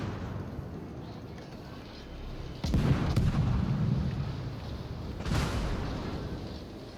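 Warship guns fire in a naval video game, with two heavy booms standing out from a constant rumbling background of engine and sea noise, the first shot louder and followed by a lingering roar.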